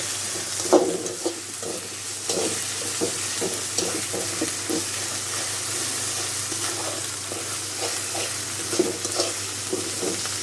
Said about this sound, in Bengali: রসুনটা ভাজা ভাজা হয়ে গেছে